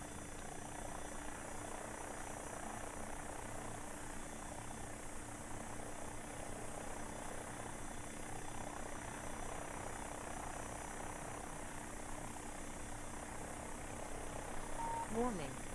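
Simulated AW-109 helicopter in X-Plane 12, its rotor and engine droning as a steady, continuous whine with a low hum, someone speaking over it while the aircraft slows and descends toward a village landing.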